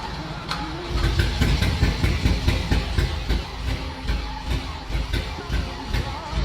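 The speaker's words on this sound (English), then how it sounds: "started the engine with high hopes" A Lamborghini V12, freshly oiled after seven years in storage, cranks over with a loud, close, rhythmic churning pulse that repeats steadily but never catches and runs on its own.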